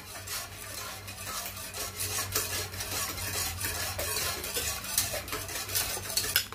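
A utensil stirring a Nestle cream mixture in a bowl, producing continuous close scraping and light clinking strokes at a quiet, even level with no talking.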